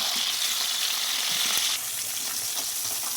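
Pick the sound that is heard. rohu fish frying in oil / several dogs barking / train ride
rohu fish frying in oil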